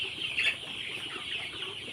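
Sonali chickens on a poultry farm cluck and chatter continuously at moderate distance, a dense flock murmur with one slightly louder call early on.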